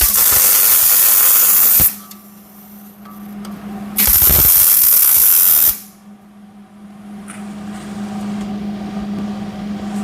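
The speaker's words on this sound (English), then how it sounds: "get a small little tack weld here" Two bursts of tack welding on a car body panel for a pro-touring Trans Am, each a loud harsh buzzing crackle lasting about two seconds, separated by a low steady hum of nearby equipment.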